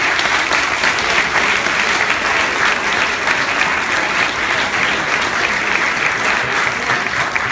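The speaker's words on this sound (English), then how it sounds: "give them a massive round of applause" A large audience claps steadily and loudly at the close of a session, a dense continuous wash of hands with no gaps and no speech on top.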